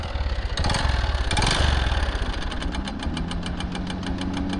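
A motorcycle engine, just kick-started, runs with a rough, rapid rhythmic knocking and clatter, loud and close, settling into an uneven idle with steady tapping pulses and no talking.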